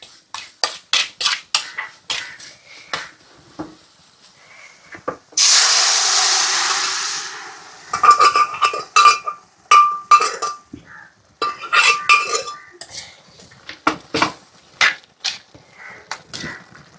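A masala curry of Kashmiri chilli, coriander powder and garam masala cooks in a pan. A spoon clinks and scrapes in quick bursts, with a few seconds of loud hissing sizzle in the middle.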